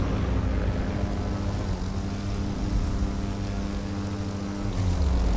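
A propeller airplane engine drones steadily in The Crew 2 racing game, a dense, continuous roar with a slight shift in tone near the end and no speech.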